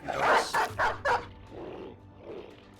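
Dogs barking in the video game Battle Brothers: four sharp, loud barks in quick succession, followed by lower, softer growling yelps trailing off.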